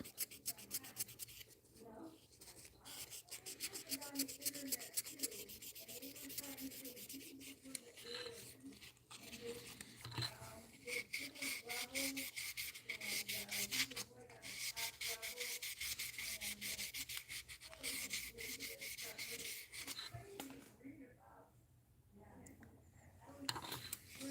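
A wooden musky crankbait lure is sanded by hand with sandpaper in a steady, scratchy rubbing rhythm that carries on throughout at close range. Someone speaks softly now and then.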